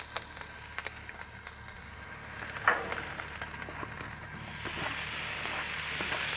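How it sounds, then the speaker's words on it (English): Chopped bacon frying on a Blackstone griddle, a close, continuous sizzle that swells louder toward the end, with a few scraping spatula sounds and no talk. "Now what we did is went ahead and just cut this bacon up. I'm just gonna fry it up now."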